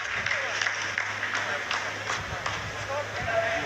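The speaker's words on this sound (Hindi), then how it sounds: "आप इस तालियों के गड़गड़ाहट को सुन सकते हैं" Scientists applauding in a mission control room during the Chandrayaan-3 lunar landing, with continuous crowd clapping beneath a steady voice talking over it.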